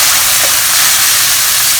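About a tablespoon of water hits a hot pan of sambal chilli with vegetables, giving a loud, steady steaming hiss that fills the whole moment up close.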